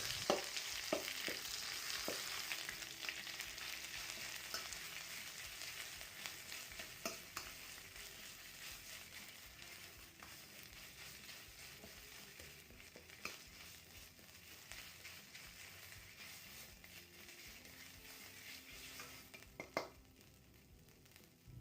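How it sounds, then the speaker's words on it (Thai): Two tablespoons of fine red curry paste stir-fried in oil, a steady soft sizzle with repeated spatula scrapes and taps, close and quiet, with no voices. "นำพริกแกงเผ็ดนะคะ เอาลงไปผัดกับน้ำมันให้ส่งกลิ่นหอม"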